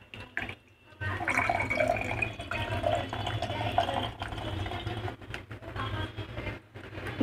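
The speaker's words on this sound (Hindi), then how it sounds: "मैंने फ्रिज का ठंडा पानी डाला है और इसको स्ट्रेन कर रहे हैं" Cold water from the fridge is poured through a double-mesh strainer into a glass, as part of making a coriander drink. After a brief pause, a steady liquid rush and trickle runs close by and fairly quietly.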